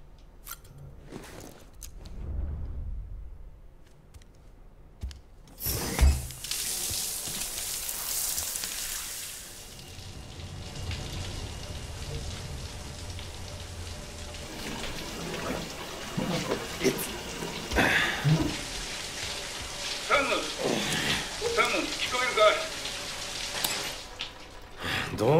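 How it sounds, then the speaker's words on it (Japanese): Running shower water in the video game Death Stranding hisses as a steady, broad rush that starts partway through and continues to the end, with faint scattered sounds mixed in. "シャワー浴びよう。"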